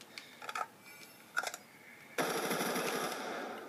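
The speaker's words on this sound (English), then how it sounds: "the Peacekeeper is a submachine gun. It's a faster, firing rate." A Peacekeeper submachine gun fires in Black Ops 2 combat training: two short rapid bursts, then a sustained stream of fast automatic fire at moderate volume.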